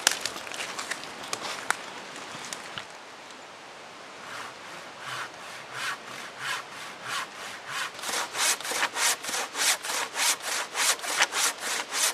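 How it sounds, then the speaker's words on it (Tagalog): A saw cuts through a wet log at a rainy bushcraft camp beside a spring. Slow scattered strokes give way to a steady, close rhythm of rasping back-and-forth pulls that grow louder and quicker toward the end. "Meron tayong nakitang troso dito na malamang sa malamang basa, pero lagariin natin, subukan natin sibakin."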